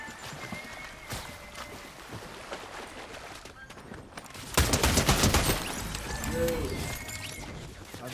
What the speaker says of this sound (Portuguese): tá tendo tiro aí atrás